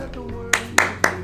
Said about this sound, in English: I feel like we need a round of applause.